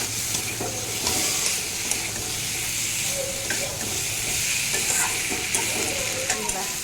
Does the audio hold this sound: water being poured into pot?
no